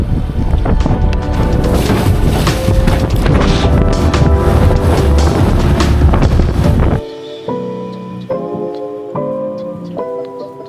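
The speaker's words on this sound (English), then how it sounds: "we have wind coming into the channel, into the tunnel, and creating a little mini rage" Wind blowing into a channel against the tide while sailing, making a loud, continuous rush of wind buffeting the microphone and water for about seven seconds before cutting out, leaving quieter tonal sounds.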